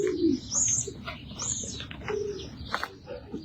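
Racing pigeons, yearling and two-year-old cocks, coo softly in a loft with repeated low throaty calls, scattered chirps and a brief flutter of wings throughout.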